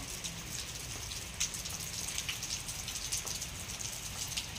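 Steady rain falling and dripping during the monsoon, a dense, continuous patter of drops with occasional louder close splashes, no talking.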